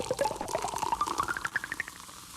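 A synthesized Coca-Cola can pop and pour, built electronically rather than recorded: a rising bubbly, gurgling fizz climbing steadily in pitch like liquid filling a glass, close and clear with no voices.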